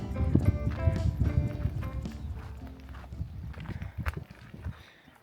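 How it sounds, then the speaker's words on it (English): A donkey's hooves clip-clop at a walking pace on a village path on an island, a steady run of hoof taps mixed with low background noise and faint voices. "Donkey."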